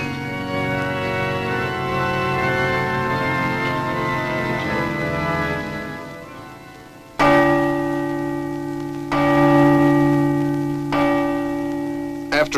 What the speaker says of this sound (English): After a rough test with the mallet comes a delicate sounding with the tuning forks.